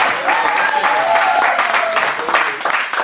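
A church congregation applauds and cheers in praise, steady dense clapping mixed with crowd voices, fairly loud and close throughout with some tonal calls rising above the noise.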